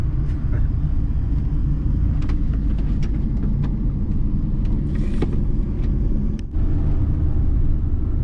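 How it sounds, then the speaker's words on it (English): A lorry drives up a road near Andorra la Vella, a loud, steady low engine rumble that holds throughout with only a brief dip; no talking. "There's a lorry coming up here."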